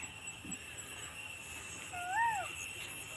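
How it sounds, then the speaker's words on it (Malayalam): A peahen gives one rising and falling call at moderate distance from nearby woods, standing out briefly above a steady hum of outdoor ambience. "ആ മയിൽ കരയുന്നുണ്ട്."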